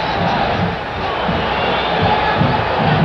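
A boxing arena crowd of about 16,000 roars continuously and loudly during a fight, a dense wall of cheering with no break across the moment.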